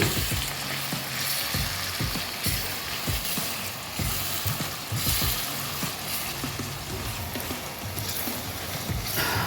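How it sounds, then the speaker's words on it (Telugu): Sliced onions fry in a pan for chicken malai boti, giving a constant close sizzle broken by repeated scraping stirs, with no talk. "ఉల్లిపాయలు మనం వేయించుకొని దాని తర్వాత నెక్స్ట్ ఏం చేయాలనేది చెప్తాను"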